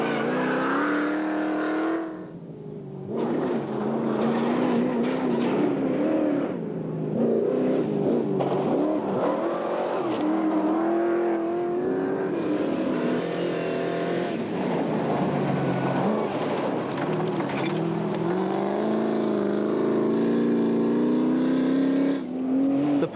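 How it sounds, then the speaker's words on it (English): Rally cars racing on the London to Sydney Marathon Rally, including a Porsche 911, roar loudly with revving engines rising and falling as they accelerate and pass continuously. "Porsche 911, driven by Rick Bates and Jenny Britton, also leap ahead of the luckless Mikolas."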